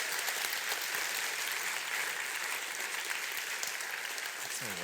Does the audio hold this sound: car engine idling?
no